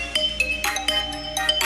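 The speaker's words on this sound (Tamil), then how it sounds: "என்ன ஏதோ போன் அடிக்குது?" Mobile phone ringtone playing a bright, repeating electronic melody of short tonal notes with a steady rhythm, fairly loud and close, heard alone without talk.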